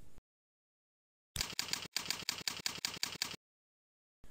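Rapid computer keyboard typing of a folder name, about a dozen crisp, closely spaced keystrokes in a short isolated burst, close and clear against silence.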